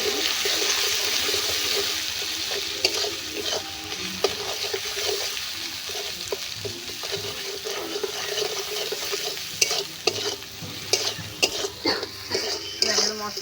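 Chili-powdered boal catfish curry stirred in a pan over a village mud oven: a steady hiss of frying oil with soft scraping strokes of a spoon throughout, close and fairly loud.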